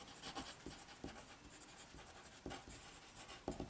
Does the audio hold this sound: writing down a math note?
yes